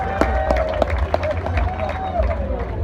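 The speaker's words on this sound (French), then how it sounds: "Je vous demande de bien vouloir applaudir la promotion Antoine Joseph Girard-Gourgue" A crowd applauds a graduating law-faculty class at a university ceremony with lively clapping, cheering and babble, while a high whistle or voice glides over the noise.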